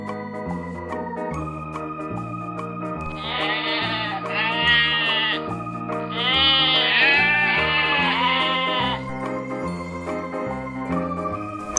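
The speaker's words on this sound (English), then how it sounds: "Sheep." Sheep bleating over a steady backing melody in a farm-animal sounds lesson for kids, several wavering bleats in two loud clusters through the middle.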